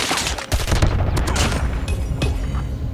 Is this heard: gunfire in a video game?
yes